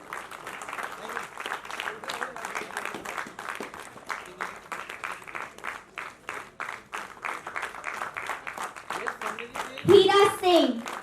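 Audience at a Hindi play about Shaheed Bhagat Singh claps in a long steady burst of applause, with scattered voices and a child's speech mixed in, swelling louder near the end.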